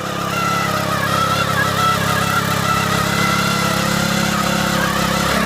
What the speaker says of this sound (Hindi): कौन से गियर में चल रही है मशीन?